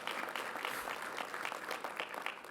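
Steady audience applause at a downtown civic address, a continuous wash of many hands clapping at moderate level, with no pause.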